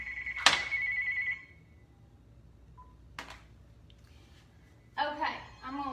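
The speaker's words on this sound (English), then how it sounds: "if my phone rings again." Phone ringing in a home kitchen, a sharp electronic ring at the start followed by quieter tones and a later burst of sound, with a person talking in between.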